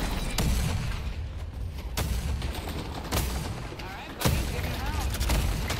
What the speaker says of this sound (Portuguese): tá todo mundo metendo um tiro em mim